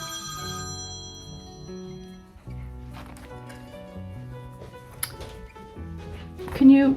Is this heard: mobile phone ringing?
yes